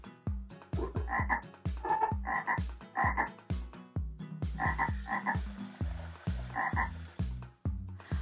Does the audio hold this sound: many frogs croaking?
yes